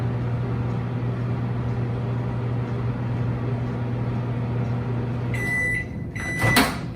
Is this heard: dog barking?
no